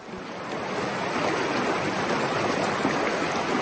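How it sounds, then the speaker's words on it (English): Esauro river in Tuscany flowing past, a steady, full rushing of water heard close and continuous with no voices. "I really love to hear the water flow."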